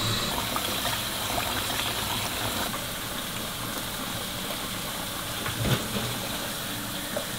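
Tap water gushes steadily to wash rice for sagh pala, a broad, continuous rush close by with a few brief knocks and splashes.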